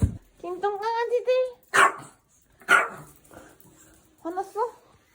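Small dogs bark and yip in a few short bursts close by, with sharp high-pitched yelps between pauses in an indoor home setting.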